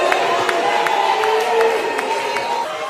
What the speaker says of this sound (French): On applaudit pendant qu'il retourne vers les backstage.